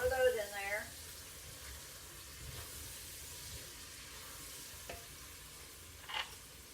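Cut, deboned chicken thigh pieces are stirred into a gumbo pot, giving a faint, soft, steady scraping and sizzling with a few light knocks. A brief voice is heard at the start.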